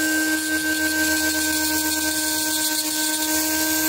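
A rotary burr tool grinds engraving off a Glock 26 pistol barrel, producing a continuous high-pitched whine with steady tones, loud and close, with no pauses.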